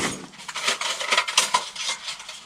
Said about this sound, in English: There's our main little folded up stove box.